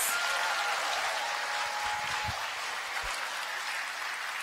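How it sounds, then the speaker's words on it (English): Audience applause for the speakers at a high school assembly, a broad steady wash of many hands clapping, fairly distant and even throughout. "Can we get one more round of applause for all the speakers?"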